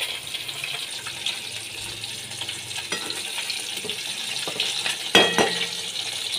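Potatoes frying in oil left over from frying katla fish, a continuous hissing sizzle at moderate loudness with a few stirring clatters near the end.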